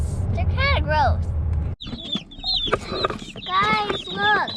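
Chickens on a homestead cluck and chirp at close range in quick, repeated bursts, with a voice present beneath the birds.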